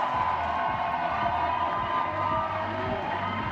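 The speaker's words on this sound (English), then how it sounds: "And just listen to that home crowd." Home crowd cheering at a compound women's archery quarterfinal in Hermosillo: a continuous, loud wash of shouting and whooping from a large audience, with a commentator talking over it.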